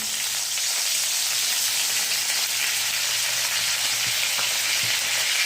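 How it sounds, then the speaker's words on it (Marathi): Curry leaves and chopped coriander crackle and sizzle in hot oil in a kadhai, a loud, close, continuous hiss without any speech. "त्यामध्ये आता तेल टाकलेलं आहे आता हा कढीपत्ता त्याचबरोबर कोथिंबीर लगेच टाकून घ्यायचं"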